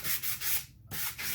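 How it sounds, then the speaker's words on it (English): Hand sanding of a hardened epoxy sculpt, a close, steady scratchy rasp in rhythmic back-and-forth strokes with one short pause, no voices. "Yeah, time for some sanding, I think."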